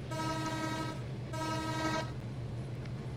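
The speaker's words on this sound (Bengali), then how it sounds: "চলুন হর্ন বাজে, বিকজ ইএমডির এই হর্নটা জোস লাগে।" An EMD locomotive horn in a train simulator game, driving the Dhrutojan Express from Tangail to Joydevpur, sounds two long, steady, chord-like blasts of about a second each with a short gap, over a low engine rumble.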